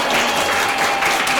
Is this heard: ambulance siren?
no